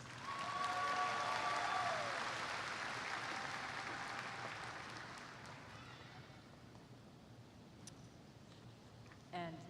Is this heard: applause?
yes